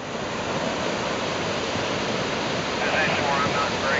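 Floodwater one and a half to two feet deep rushing down from a wildfire burn area, heard as a loud, continuous roar with no breaks.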